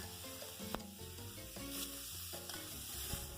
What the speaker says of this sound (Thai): พอเราผัดจนพริกแกงหอม